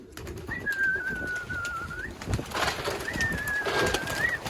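A small pigeon coos twice, each soft trilling coo lasting over a second, separated by a short pause over low background rustle.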